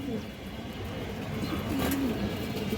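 Soft repeated cooing from a female pigeon of an old bloodline, low and steady over a constant background hum, with a brief rising call near the end.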